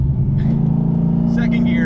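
A 2013 Ford Shelby GT500 pulling away in first gear, its engine a loud, close, steady low rumble rising slightly in pitch, with someone talking over it.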